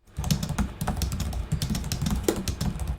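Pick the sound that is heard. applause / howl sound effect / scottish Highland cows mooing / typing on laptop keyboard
typing on laptop keyboard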